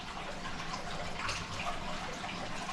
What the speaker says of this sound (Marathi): मित्रांनो पाणी टाकून झाला